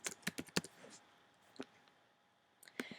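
Typing on a computer keyboard: a few quick, crisp keystroke clicks clustered at the start, then a lone tap and a final pair, close and clear with no talking.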